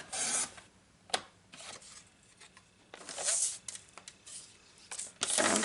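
Paper pieces for a travel journal are cut by hand in a quiet room, giving soft rasping snips and slides in scattered bursts.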